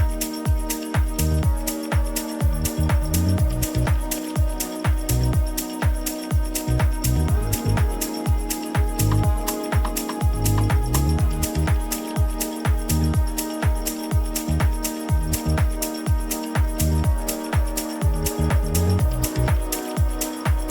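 Electronic drum group in a melodic house track, kick and percussion glued by parallel compression, thumping steadily in a driving four-on-the-floor groove with sustained synth pads layered above, loud and continuous.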